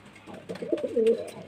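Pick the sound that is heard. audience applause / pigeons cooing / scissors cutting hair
pigeons cooing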